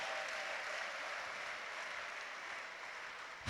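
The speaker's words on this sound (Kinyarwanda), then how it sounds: "Mumera Imana amashyi menshi" Church congregation applauding: a steady, even wash of many hands clapping throughout, moderately loud, with a louder burst right at the end.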